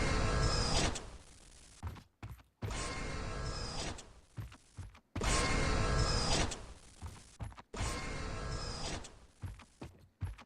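A mechanical sliding door in a video game opens four times in a row, each a loud grinding, creaking mechanism run of about two seconds that stops abruptly, separated by short gaps and softer clunks, with no talking.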